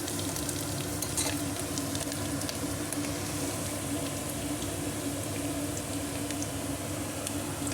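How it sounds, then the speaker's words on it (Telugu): Food fries in a pan while egg pulusu is cooked, giving a steady, close sizzle with scraping stirring throughout and no talking. "కొంచెం వేగాలండి"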